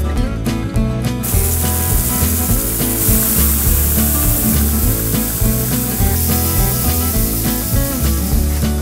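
A forged steel knife blade is sanded with 150 to 180 grit, a continuous harsh hissing scrape, loud and close, with a few sharp stroke onsets at the start.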